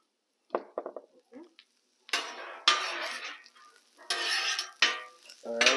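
Chorizo cheeseburger patties sear on a Blackstone griddle, with sharp bursts of sizzling and metallic spatula scrapes and clatters. Short scraping strokes come first, then louder, sustained hissing sizzles arrive in waves, close up.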